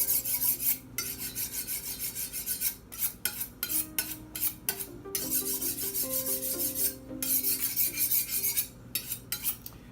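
A knife drawn repeatedly along an old butcher's steel, over 50 years old, giving a run of rasping, scraping strokes with metallic ringing, close and steady, with brief pauses between bursts and no talk.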